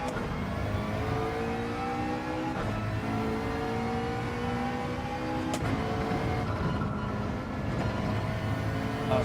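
A race car engine in Gran Turismo 7 at Sardegna drones loudly and steadily, pitch rising through repeated gear changes.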